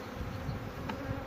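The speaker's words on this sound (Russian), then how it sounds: "пчелки потом выберутся оттуда, с ведра" Honeybees buzz steadily in a low, dense drone around an apiary during a late-June honey harvest from the supers, with no voices heard.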